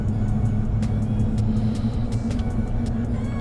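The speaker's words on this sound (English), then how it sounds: "You can already hear the tires whirring like you would expect from a mud tire" Mud tires on a Ram Rebel pickup truck without a lift hum in a low, steady drone from inside the cab as it drives toward a highway, with a constant rumble and small ticking sounds on top.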